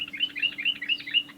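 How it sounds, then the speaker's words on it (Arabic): A wild bulbul chirps in a quick, rhythmic run of bright, close twittering notes, repeating without pause over a faint low hum. "هاي اذا قلنا البلبل وحشي."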